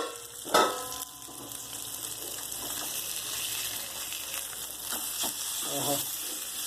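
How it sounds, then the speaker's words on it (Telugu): Spice-coated pieces fry in a pan with a steady sizzle and crackle, broken by a few stirring scrapes and clatters, close by and moderately loud. "ఫ్రై పీసెస్ మీద వేడి పెట్టాం కదా, అది ఎంతవరకు ఫ్రై చేసి చూద్దాం."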